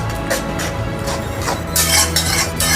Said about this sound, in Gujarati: હવે દૂધી અને ખાંડ મિક્સ થઈ જાય ત્યાં સુધી આપણે હલાવીશું.